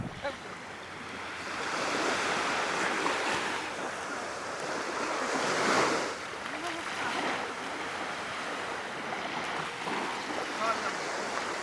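Ocean waves wash onto a beach in the morning, rising and falling in a broad, continuous roar with some wind buffeting the microphone.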